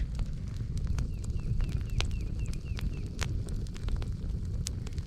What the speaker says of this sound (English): Well, the fire's almost finished.